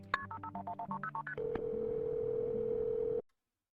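A phone call being dialed, a rapid run of about a dozen touch-tone beeps followed by a steady ringing tone that cuts off abruptly, with no voices.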